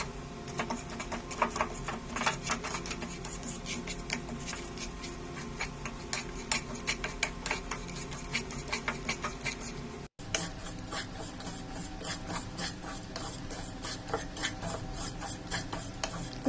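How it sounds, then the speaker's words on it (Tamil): Grated coconut and jaggery being stirred together in a pan with a spoon, giving a steady run of quick scraping, rasping strokes against the metal, close and moderately quiet. "இதை நல்லா மிக்ஸ் பண்ணிக்கோங்க"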